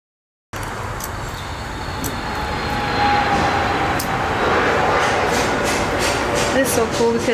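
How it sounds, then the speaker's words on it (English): An airplane takes off in the background, its broad roar building over the first few seconds and then holding as a steady, fairly distant rush, with faint voices and sharp ticks now and then. "I don't know if you hear the airplane in the background."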